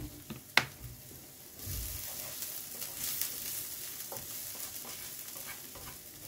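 Onions frying in oil in a pan are stirred steadily, a continuous close sizzle with a sharp scrape early on and spoon strokes scraping through the hiss, no voices.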